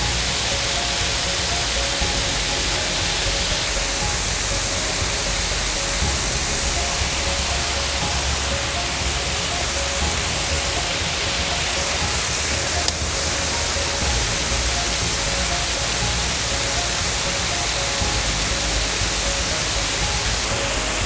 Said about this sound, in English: as I walked over here and I see a fourth waterfall, 2 on each side